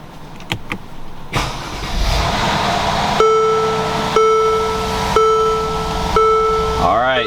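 A 2013 Mercedes GL550 engine, fed by a jump pack on the jump start port, cranks and catches into a steady run, with a chime beeping once a second over the engine.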